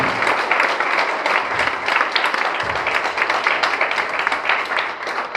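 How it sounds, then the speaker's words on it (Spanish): A church congregation bursts into strong applause during a service on the Lord's Supper, a thick, continuous wash of clapping hands holding steady throughout. "le dan un fuerte aplauso al Señor"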